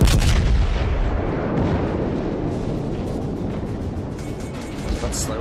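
Konig battleship secondary guns firing in World of Warships, a dense, continuous barrage of loud booming blasts that rolls on without pause.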